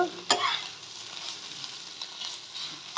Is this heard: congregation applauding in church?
no